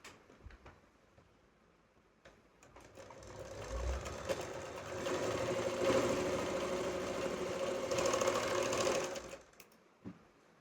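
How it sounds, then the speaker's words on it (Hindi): Sewing machine stitching a 10-to-12-year girl's co-ord set with pack neck, sleeveless top and plazo, running in a steady whirring burst for several seconds, with quieter handling sounds before and after. "बोथ साइड हमने इसी तरीके से आधे आधे इंच पे ही सिलाई लगानी है, 3 इंच पे ही।"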